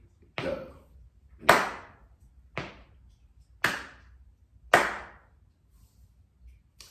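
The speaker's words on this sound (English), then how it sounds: "Add your numbers as I clap" Five sharp hand claps spaced about a second apart, close and distinct, each followed by a short decay in a quiet room.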